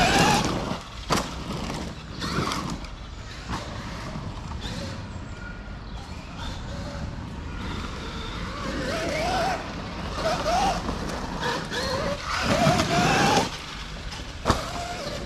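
A Traxxas RC car drives outdoors, its electric motor whining in short rising bursts amid clattering knocks and bumps from the chassis, with quieter gaps between runs.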